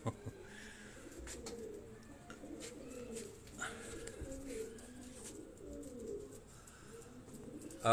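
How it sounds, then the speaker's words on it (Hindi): Crested pigeons cooing in a soft, continuous low murmur that overlaps throughout, with occasional higher chirps and rustling in the background. "ये वो टोपी वाली ब्रीड के जो कबूतर हैं मैं आपको दिखा रहा हूँ।"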